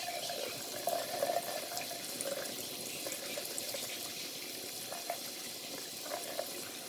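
Rice being rinsed in a colander under a running kitchen tap, a steady close water hiss with light splashing and a few brief sloshes, no voices.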